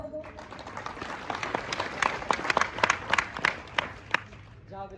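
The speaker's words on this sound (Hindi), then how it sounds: "एक बार जोरदार तालियां तो बजा दो।" A crowd at an outdoor Adivasi rally claps in a scattered burst that thickens into sharp, uneven applause for a few seconds, then trails off to isolated claps, with a voice talking at the edges.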